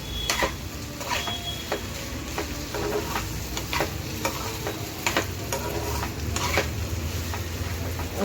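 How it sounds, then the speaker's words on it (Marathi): Thin potato slices being stir-fried in hot oil with spices, a steady close sizzle with frequent scraping and clinking of the spatula against the pan, and no voices. "असं सगळ्या बाजूने तेल आपलं लागलं पाहिजे, मसाला लागला पाहिजे, फोडणी लागली पाहिजे, असं आधी परतवून घ्यायचं."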